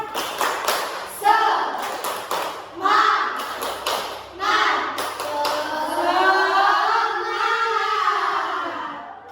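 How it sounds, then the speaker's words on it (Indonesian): A primary-school class performs a rhythmic clapping chant, with bursts of synchronized hand claps alternating with children's chanted voices, the chanting rising into a long sung phrase toward the end, close and lively in a classroom. "kita akan melakukan tepuk semangat terlebih dahulu"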